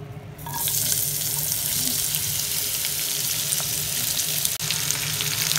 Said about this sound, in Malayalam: വറുത്ത് വെച്ച അതേ ഓയിലാണ് നമ്മൾ എടുത്തിരിക്കുന്നത്. അതിലേക്ക് ആദ്യം സവാള ഇട്ട് കൊടുക്കാം.